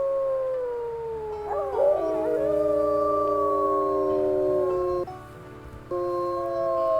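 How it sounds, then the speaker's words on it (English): Several wolves of a pack in the WolfQuest video game howl together, long sliding tones overlapping and wavering, loud and close, with a brief dip before the chorus resumes. "Let's also maybe do a howl to boost as well as we can."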